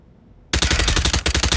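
After a moment of near silence, a compact SMG pistol in Hitman Freelancer opens up in a loud, close, rapid automatic burst, briefly hitching before rattling on.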